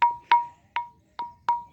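Two stones knocked together, one old stone struck with another, giving five sharp metallic rings with short bell-like decays at irregular intervals, close and clear with no talk.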